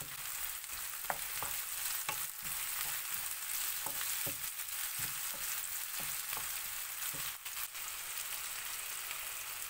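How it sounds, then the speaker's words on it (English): Chopped onion fries in a pan for a chicken liver roast, giving a steady, dense sizzle throughout with scattered sharp clicks and taps from stirring, close and continuous with no voices. "Cook this onion till it turns to golden color."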